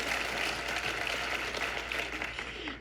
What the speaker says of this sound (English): So can we give Elliot and Rochelle a round of applause?